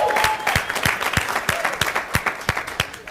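An audience at a business seminar on Grant Cardone's stage applauds, with steady, rhythmic claps that grow more spaced and distinct, and faint cheering underneath.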